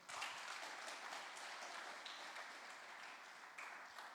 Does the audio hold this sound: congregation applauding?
yes